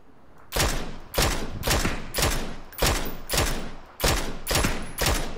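Gunfire in a PUBG match: nine loud sharp shots in an even, rapid rhythm, each with a short decaying tail, heard alone without talk.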